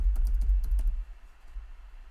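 New password typed on a computer keyboard, a quick burst of crisp, close key clicks in an uneven run that stops after about a second.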